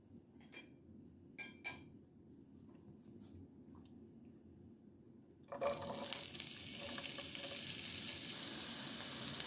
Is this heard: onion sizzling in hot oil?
yes